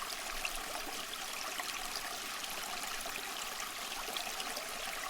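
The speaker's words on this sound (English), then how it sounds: "a creek cascades off the edge of a cliff and gently falls into a clear pool" A forest creek spills off a cliff edge into a clear rock-ringed pool, giving a steady, even rush of falling water that stays close and constant with no voices.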